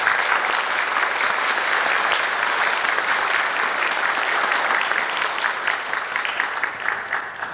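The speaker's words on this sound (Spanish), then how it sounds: "recibimos con un aplauso a Gabriela Sosa" A congress audience applauds to welcome a speaker, with dense sustained clapping from a large crowd that holds steady before thinning slightly toward the end.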